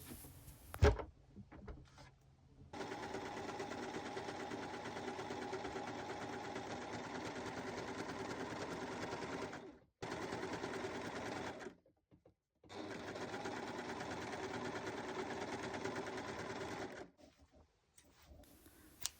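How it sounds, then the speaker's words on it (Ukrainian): An overlock serger stitches and trims fabric for a quilted blanket sewn from old scraps, running in steady fast-whirring bursts of several seconds, separated by short pauses, close up and alone. "а за мене це буде робити ніж оверлоку"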